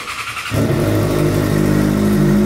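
A Yamaha XJ6 motorcycle with a 3-inch exhaust pipe and a small muffler starts up, then idles steadily with a deep, throbbing rumble, loud and close, with no voices.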